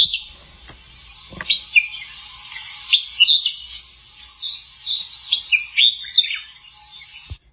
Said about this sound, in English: Red-whiskered bulbul eats fruit, insects, and nectar. They have loud chattering songs early in the morning